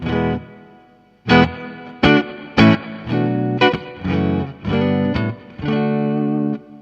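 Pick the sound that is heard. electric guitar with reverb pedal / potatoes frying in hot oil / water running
electric guitar with reverb pedal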